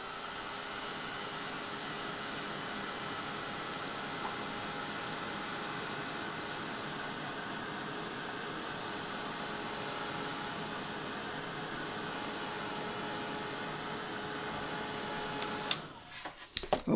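A hair dryer runs in a steady, loud whooshing drone while drying watercolour on die cut paper flowers, then cuts off abruptly near the end with a few handling knocks.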